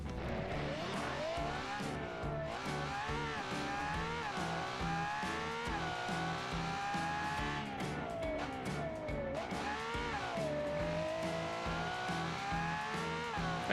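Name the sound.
race car engine sound in video game Automation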